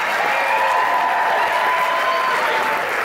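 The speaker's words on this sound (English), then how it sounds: "Give them a big round of applause." Audience in a hall gives sustained applause with some cheering for performers at a Christmas show, a dense, steady wash of clapping with a faint tone ringing through it.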